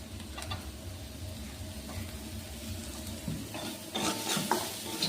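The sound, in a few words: chopped carrots frying and being stirred in pan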